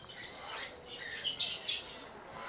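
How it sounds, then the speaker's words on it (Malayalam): African lovebirds in a bird park chirp in quick, high, thin calls, with a couple of sharper squeaks standing out over a faint background. "ആഫ്രിക്കൻ ലവ് ബേഡ്സ് ആണിത്."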